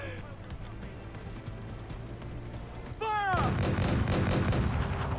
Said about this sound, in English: Oh, this thing has cannons on the back.